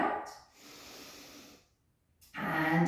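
Standing Pilates shoulder exercise with a resistance band, with soft close breaths, a gentle exhale followed by a pause and then a stronger audible breath.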